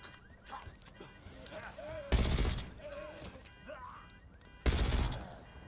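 Gunfire in Call of Duty Black Ops 6 comes as two loud, short bursts about two and a half seconds apart, with voices and other game sounds in between.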